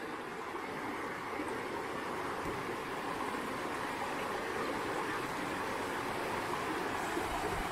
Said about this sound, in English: When you just listen to that water, it's absolutely lovely.